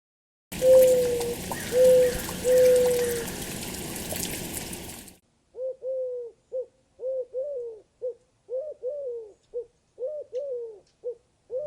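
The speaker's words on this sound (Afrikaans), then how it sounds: "Duif." Soft repeated cooing of a pigeon, a run of short rounded hoots in an uneven rhythm, clear and close against silence, following an earlier stretch of noisier sound with whistled tones.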